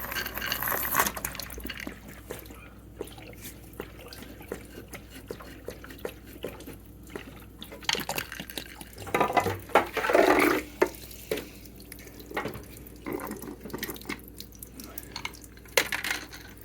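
Water drains from the plugs of a swimming pool pump being winterized, a faint, uneven trickle and splash that swells briefly near the middle against low background noise.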